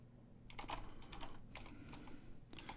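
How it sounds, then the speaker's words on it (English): Keys clatter on a computer keyboard in quick, irregular bursts of close, crisp taps with brief pauses between runs. "You just probably don't want me typing them, though, with my typing speed."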